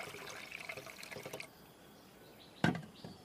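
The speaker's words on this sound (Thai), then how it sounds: "เมื่อล้างแล้วเทน้ำลงไปอีกครั้งนะครับ" Water is poured into a container in a washing step, first a rushing, splashing stream for about a second and a half, then quiet, then a single sharp splash near the end.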